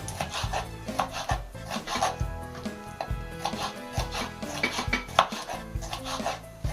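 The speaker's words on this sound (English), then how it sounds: "now we slice the tomatoes" Knife slicing through tomatoes on a cutting board while making homemade French fries, a steady run of soft repeated chopping taps with some clatter of dishes, close by and with no talking.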